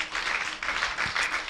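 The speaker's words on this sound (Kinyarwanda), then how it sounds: "Amashyi menshi ku Mwami Yesu Kristo." Church congregation clapping in praise during a sermon, a brief burst of many hands applauding together in pulsing waves, moderately quiet and slightly distant.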